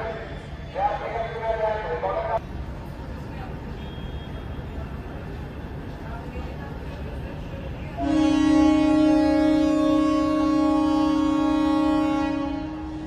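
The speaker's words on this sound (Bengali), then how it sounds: "ট্রেন ছেড়ে দিয়েছে একদম টাইমে" Train pulling out of platform 4 at Siliguri Junction, a low rumbling roll under ambient station noise, a short tonal horn early on, then a loud sustained harmonic horn blast that holds for several seconds before fading.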